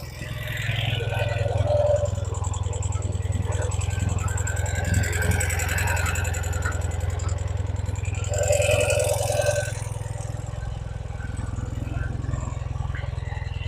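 A 2018 Ural Gear Up two-wheel-drive sidecar motorcycle idles steadily while warming up, a constant low engine rumble close by with faint mechanical clatter, and someone talking over it in places.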